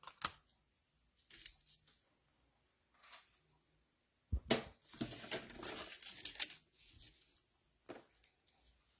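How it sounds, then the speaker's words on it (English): Scissors snip through paper during a card-making project, a few quiet cuts at first, then a dense run of close, crisp snipping and rustling, with no talking. "I think I'll just go with scissors."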